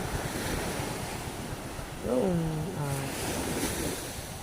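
Sea waves wash continuously against the shore, with wind buffeting the microphone and a brief voice sounding midway.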